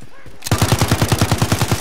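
Automatic gunfire in a zombie battle royale game, a loud fast burst of evenly spaced shots that starts abruptly after a brief quiet moment and keeps hammering at a steady rapid rhythm.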